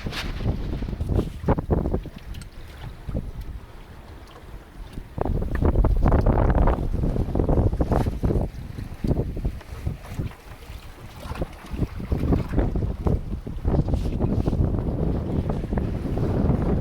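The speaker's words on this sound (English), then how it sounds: "the breeze had turned to the south and strengthened, and we had a good sail for the last 10 miles back to Warneet" A sailboat moves under sail in a strengthening south breeze, with steady gusting wind roaring across the microphone, water rushing and slapping against the hull, and surges of louder buffeting throughout, with no voices.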